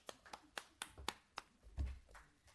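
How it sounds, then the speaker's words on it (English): Scattered handclaps at a town board meeting, about eight sharp, separate claps at an uneven pace, fairly faint and without talk. "I'll always clap for you."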